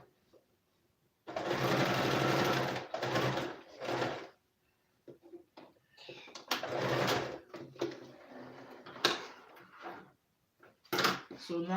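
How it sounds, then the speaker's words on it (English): A sewing machine stitches lining and fabric together on a garment's back panel, in a loud, close burst of steady motor whirring, a pause, then a second stretch of shorter runs, with someone talking in between. "But this one I'm sewing freely because they are equal."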